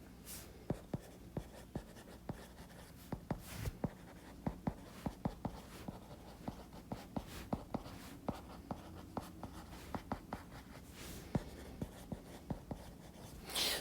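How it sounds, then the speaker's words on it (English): Pen strokes and taps while math is written out by hand, a steady stream of small clicks and scratches close to the microphone, quiet and continuous with no talking. "Let me write it that way."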